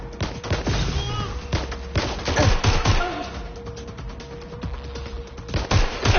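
Rapid, dense gunfire from a suspect in the video game Watch Dogs 3: a loud volley of overlapping shots and thuds, sustained over several seconds, with a voice briefly heard in the mix.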